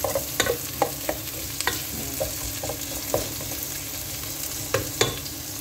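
Ginger browning in a hot pan, stirred now and then: a steady low frying sizzle with sharp scraping clicks of the spatula at irregular moments, close and alone with no voices.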